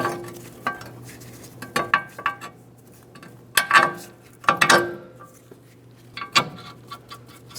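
A ratchet tightening a 21mm mounting nut on a tie rod end of a 2015-2025 Ford Transit-250, with sharp metallic clicks and clinks in short irregular bursts, close and fairly quiet, with a steady low hum underneath.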